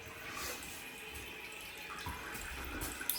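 A freshly installed toilet in a bathroom under construction refills its tank, giving a steady, close hiss and gurgle of running water that carries on without a break and with no talking.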